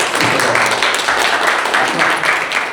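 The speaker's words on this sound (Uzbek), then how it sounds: "Va bitta guldiroz qarsak bo'lsin." An audience at a talk on traditional medicine for high blood pressure gives a burst of applause: dense, steady clapping from many hands, fairly close and sustained for a few seconds.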